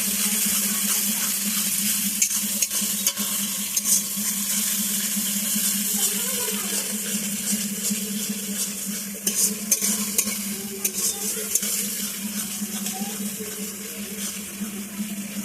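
Ground spices sizzle and fry in hot oil with garlic, ginger and chopped onion while being stirred in a pan for Bengali chicken kosha, a steady close hiss broken by scraping spoon knocks, no talking.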